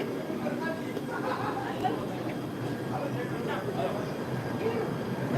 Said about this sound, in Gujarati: ટ્રેન ઉપડી ગઈ છે